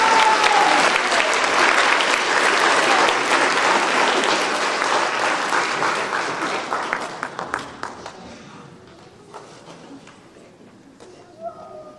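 Audience at a school band spring pops concert clapping loudly at first, the dense applause thinning into scattered claps and fading toward the end, with faint talking underneath.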